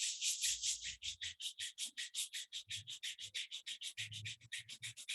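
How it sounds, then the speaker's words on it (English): Two palms rub briskly together near the microphone in a fast, even run of soft swishing strokes that lasts several seconds, quiet and with no talking. "Rub your both palms."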